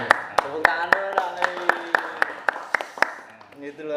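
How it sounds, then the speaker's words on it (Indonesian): A dozen or so sharp, evenly spaced hand claps ring out over roughly three seconds at a podcast chat, steady and close, with a voice speaking underneath. "Tepuk tangan dulu dong."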